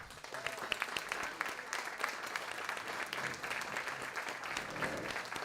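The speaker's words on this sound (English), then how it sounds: "Can we give him a round of applause?" Audience applause and cheering at an internal medicine resident graduation, a standing ovation for an honoured doctor; dense, sustained clapping from a large crowd at steady volume throughout.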